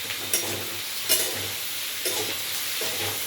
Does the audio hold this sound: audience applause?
no